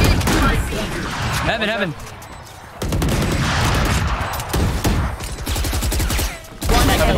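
Loud sustained automatic gunfire in a team shooter match, rounds fired through a wall in long dense bursts with brief gaps, while a player shouts over the shooting.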